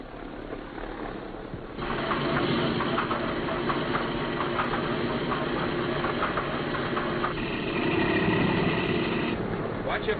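A B-17 bomber's number 2 radial engine starts up, a dense low rumble jumping in after a quiet stretch and settling into a steady loud idle near at hand, with a voice heard over it.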